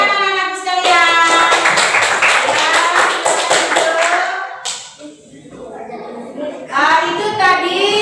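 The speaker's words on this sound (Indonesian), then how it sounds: "Tepuk tangan anak-anakku sekalian" A class of schoolchildren clap along in a patterned classroom clapping routine, with children's voices chanting loudly over the rhythmic claps; the clapping pauses briefly midway, then resumes.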